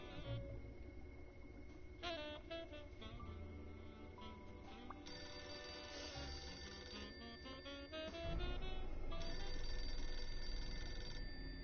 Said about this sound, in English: Can the phone start ringing, please?